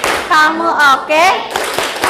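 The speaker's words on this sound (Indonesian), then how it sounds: "Kita beri tepuk apresiasi untuk seluruh anak-anak Ibu yang hari ini sudah belajar dengan baik" A class of children gives an appreciation clap during an Indonesian-language lesson, with rhythmic claps mixed under loud chanting voices.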